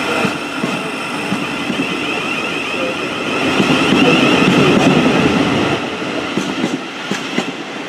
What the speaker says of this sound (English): Also departing now is the 1235 Thameslink service to Bedford